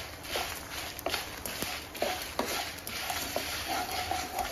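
Dried red chillies fry in oil in a pan for gongura pickle, a soft steady sizzle with scattered stirring clicks and scrapes of a utensil, close but fairly quiet, with no voices.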